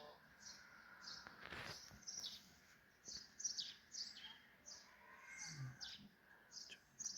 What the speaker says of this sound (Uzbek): chumchuqlarning ovozi eshitilyaptimi?